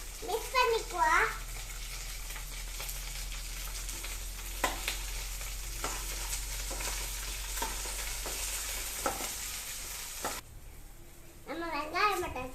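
Garlic sizzles and is stirred in a hot pan for a crab curry, giving a steady frying crackle with scattered utensil taps, while a voice briefly chatters near the start and again at the end.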